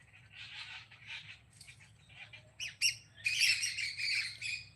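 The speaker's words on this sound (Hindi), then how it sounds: "बहुत सारी चिड़िया बोल रही है" Many birds call near a tree, with squawks and chirps that come in bursts and swell into a busy chorus toward the end, over a low steady hum.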